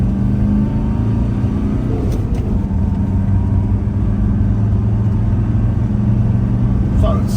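A 1985 Mercedes W123 300D diesel sedan with a manual gearbox pulls away and accelerates hard, its engine giving a loud, steady low drone and rumble heard from inside the car throughout.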